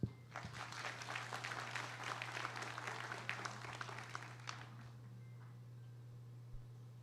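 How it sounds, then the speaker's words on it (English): Audience at a hospital lung transplant program launch ceremony claps for about five seconds, moderate and slightly distant, then the clapping fades into a quiet room with a low steady hum underneath. "A round of applause"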